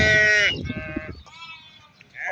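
A flock of about 500 sheep, including ewes with lambs, bleats at the Barda sheep market. Loud, close bleats come at the start and end, with a few softer calls between.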